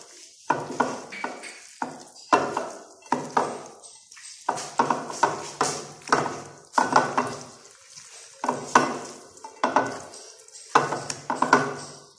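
Marinated mutton for a Lahori karahi is worked together with spices by hand in a bowl, giving repeated wet, squelchy slaps and squishes in an uneven rhythm, close up and with no talking.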